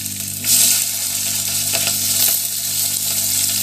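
Dried red chillies, curry leaves and small onions hit hot oil in a pan with a loud, bright sizzle that flares up at the start and crackles steadily, with faint stirring clinks.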